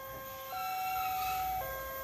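Automatic railway level crossing alarm at Bedilan, Kalitirto, sounding with no train passing: a steady electronic tone that shifts pitch partway through, heard at moderate distance over low outdoor rumble.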